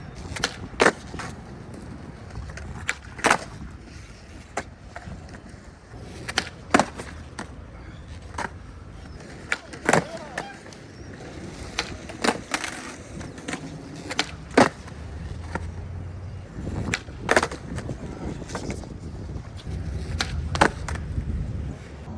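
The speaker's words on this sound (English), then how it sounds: "Frontside flips, definitely a whole lot better with tight trucks." Repeated skateboard frontside flips on tight trucks: sharp board pops and landing cracks arrive every couple of seconds over steady wheel roll, loud and close, with no talking.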